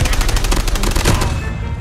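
Rapid gunfire bursts out in a Call of Duty Mobile battle royale match, a loud, dense series of shots that fades out near the end of the two seconds.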